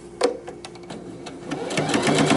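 Sewing machine stitching across a fabric strip on a tote bag, a rapid run of needle clatter that steadies into a continuous whir, close and fairly loud.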